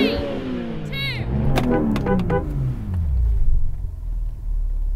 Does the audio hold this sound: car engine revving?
yes